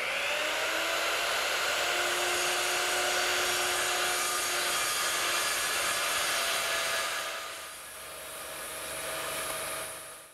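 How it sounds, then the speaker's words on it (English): A circular saw cuts through hardboard in a workshop, a steady high whine running continuously and then easing off near the end; close and fairly loud, with no speech. "I'm going to use my circular saw to take out that material"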